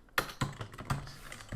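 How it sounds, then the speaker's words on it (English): A computer keyboard struck with a few sharp, uneven smacks and taps, close and fairly quiet, over about a second and a half with short pauses between hits. "keyboard smack."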